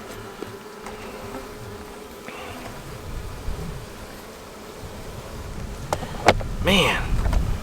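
Honey bees buzz around a hive entrance after the loss of their queen, a steady insect hum running the whole time with a louder swell of close passing flight near the end.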